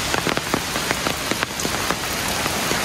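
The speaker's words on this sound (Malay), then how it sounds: "Hari ni hujan lebat." Heavy rain falling at a campsite, a dense steady patter with sharp, irregular drop impacts ticking on a nearby surface, loud and unbroken.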